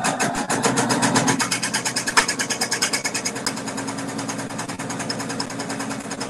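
A sewing machine stitches quilting fabric strips into squares with a quarter-inch seam, running in a steady rapid mechanical rhythm that rises and falls slightly, loud and close throughout with no talking.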